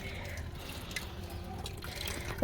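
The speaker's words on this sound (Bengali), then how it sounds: "কলে জল পড়ছে" Tap water running weakly at an outdoor tap while potatoes are washed, a soft continuous trickle with faint drips, close and quiet.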